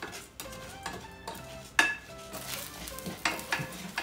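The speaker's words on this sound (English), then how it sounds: "So I have to wait that my caramel's actually melted" Caramel melts in a kitchen pan during a cooking contest. It gives a faint sizzle, with light scraping and clinks from the stirring utensil. A sharp metallic tap comes near 1.8 seconds.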